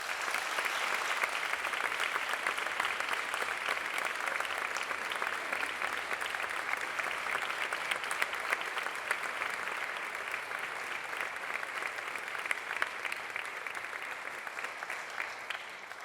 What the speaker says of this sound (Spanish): Para ellos pido un fuerte aplauso.